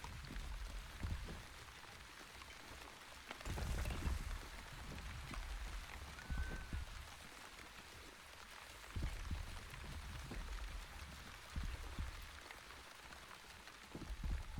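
Rain falling in the video game The Wandering Village, a soft steady hiss of drops with faint patters, continuous and fairly quiet throughout.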